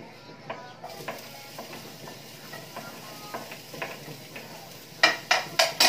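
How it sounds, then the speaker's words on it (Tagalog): Garlic and onion sauté in a pan for sardine omelette, giving a light, steady sizzle with scattered small clicks of stirring, then several louder, sharp utensil scrapes close up near the end. "Ilalagay po natin yung bawang at saka sibuyas."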